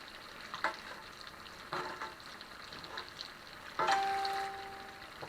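Ribeye steak and eggs frying in butter in a cast iron pan, a quiet continuous sizzle broken by a few louder spitting bursts and clinks of a basting spoon against the pan.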